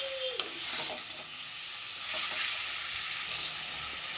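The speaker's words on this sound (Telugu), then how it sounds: "ఫ్రెండ్స్, ఇప్పుడైతే మనం ప్రిపేర్ చేసుకున్న కోడి స్కిన్ని ఇందులో వేస్తున్నాను" Chicken skin tumbles into a hot pan and is stirred, giving a steady, close sizzling hiss with a few soft scrapes and clinks from the stirring, no voices.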